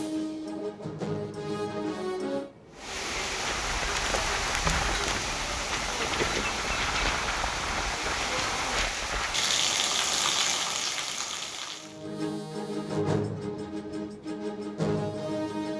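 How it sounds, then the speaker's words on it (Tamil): Heavy rain in Manur, Tirunelveli district, driven by strong gale winds: a dense, steady roaring wash of downpour and gusts for about nine seconds, set between stretches of music. "நெல்லை மாவட்டம் மானூர் மற்றும் அதன் சுற்றுவட்டார பகுதிகளில் சூறை காற்றுடன் பலத்த மழை."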